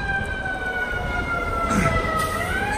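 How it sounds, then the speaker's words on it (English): A fire department engine arrives with its siren wailing in a steady, slowly falling tone, close and loud over low truck rumble, with a short horn blast near the end. "So here comes their engine."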